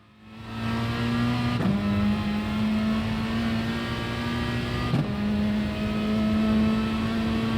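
Peugeot RCZ Gr.4 race car engine in Gran Turismo Sport at the Red Bull Ring, droning steadily and loudly with two quick gear-shift breaks as it accelerates, no voices.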